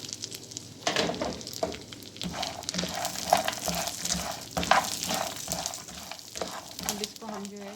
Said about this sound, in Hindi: अब इसको हम जो है इतना बस करेंगे कि थोड़ा सा रोस्ट हो जाए